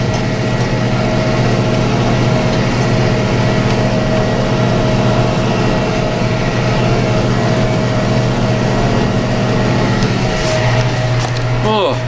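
A tractor drones steadily nearby while mowing a field, its low, heavy engine note constant and loud throughout. A faint rattling whine rises near the end.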